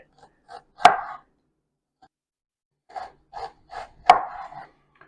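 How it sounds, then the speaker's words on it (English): A knife cuts an onion into very thin slices for homemade coleslaw, giving a few sparse, crisp chopping taps on a board with quiet gaps between them, close and clear. "So I'm cutting that in half, and then very, very thin slices"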